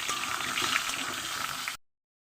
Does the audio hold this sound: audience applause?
no